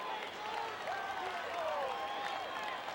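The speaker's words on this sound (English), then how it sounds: "There are about 9 people clapping." Sparse, thin applause from a small crowd after a home run at a 1988 NLCS baseball game between the Dodgers and Mets, steady light clapping with broadcast commentary voices over it for the whole stretch.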